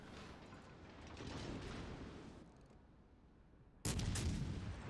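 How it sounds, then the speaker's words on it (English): High-explosive shells striking a warship in a naval combat video game, a dense rumbling barrage of impacts that swells and fades, then a sudden loud burst of hits near the end. "I'm still being shot by HE!"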